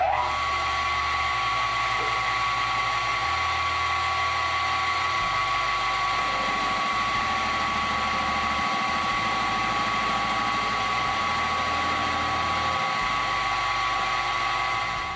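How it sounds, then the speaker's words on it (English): A milling machine cuts the faces of a steel dagger blank with a loud, constant whirring drone and a steady high whine, while the low hum steps up and down in level every second or two. "I'm going to have to turn to the milling machine and mill each one of these faces rather than turn it"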